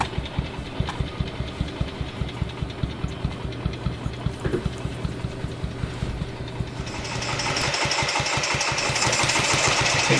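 Older Moto Guzzi single-cylinder motorcycle with an exposed flywheel, engine idling at low revs with a slow, steady thumping beat, close and loud, the revs picking up and the note filling out toward the end.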